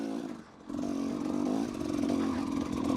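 A dirt bike engine on a Kremmling trail ride dips for a moment during a downshift to second gear, then settles back into a steady, rough, close rumble with faint clatter.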